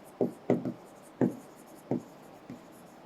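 Handwriting on a board during a chemistry lesson: six short, crisp strokes spaced unevenly over a few seconds, close and clear against a quiet room, with no talking.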